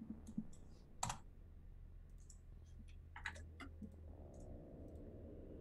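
Computer mouse clicks during work in a computer program: a few sharp, quiet clicks in short clusters, including paired double clicks, over a faint background hum, with no talk.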